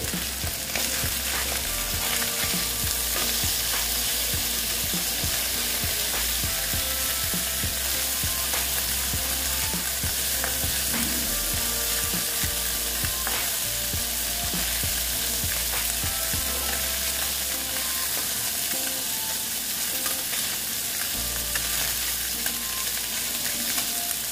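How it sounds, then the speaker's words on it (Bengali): Mourola fish sizzles and crackles steadily in hot oil for the whole stretch, a dense, close frying hiss with occasional light clinks of a utensil against the pan. "যতটুকু পারি ভালো মতন ভাজতে ততটুকু ভেজে নেবো"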